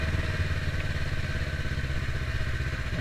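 A Yamaha R3 sport motorcycle engine runs with a steady, throbbing hum, close and continuous with no change in pace, and no voices.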